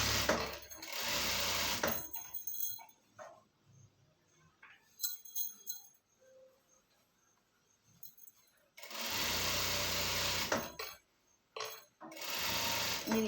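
A sewing machine running a top stitch on pants, heard as loud bursts of rapid mechanical stitching at the start, middle and end, with quieter clinks and handling noises in the pauses between.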